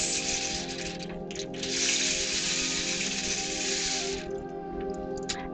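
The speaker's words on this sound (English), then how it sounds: "We also bring in the rain sticks." A handmade rain stick for sound therapy pours out a continuous bright hiss of trickling seeds, swelling slightly and briefly pausing as it is tipped, heard close and alone.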